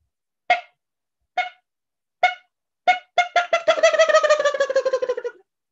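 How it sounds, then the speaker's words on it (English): Downy woodpecker call in a North Texas backyard: a few separate sharp single notes, then a fast descending whinny of rapid notes, clear and close with no other sounds. "The downy woodpecker makes a very distinctive call that sounds like this."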